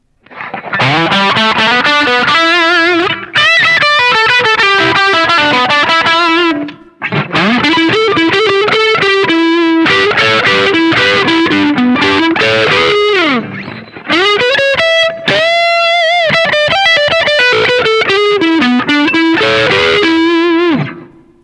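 Bright, biting distorted electric guitar on the bridge pickup plays blues licks in several bursts with short gaps, sharp and trebly, loud and up close.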